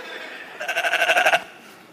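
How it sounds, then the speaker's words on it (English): A single sheep bleat, a wavering, pulsing call lasting under a second, heard clearly over a hushed conference-hall background. "I want to talk about sheep."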